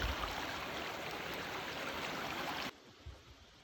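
A silt-laden, murky creek rushes in a loud, steady wash of flowing water close by, then cuts off abruptly near the end, leaving only faint low rumbles.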